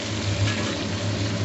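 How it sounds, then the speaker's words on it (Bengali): Chicken pieces fry in a pan for a Bihari-style meat dish, giving a steady, dense sizzle with a low bubbling hum that carries evenly through the whole short stretch, close by and with no one speaking. "চিকেন ফ্রাই চলছে এখন আমাদের"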